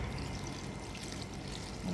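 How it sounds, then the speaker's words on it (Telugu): Ginger-garlic water is poured into a mixing bowl for a soya snack batter, a continuous soft splashing pour lasting a couple of seconds with no voices. "అల్లం వెల్లుల్లి వాటర్"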